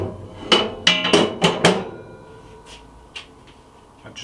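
A 3 mm thick coated steel smoke baffle plate set into a pellet grill, a quick run of several sharp metallic clanks and knocks close by, then a few fainter taps as it settles.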